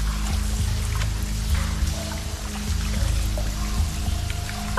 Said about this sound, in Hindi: पानी का स्तर देख के लगता है फायर दरवाजे से पानी लीक हो रहा है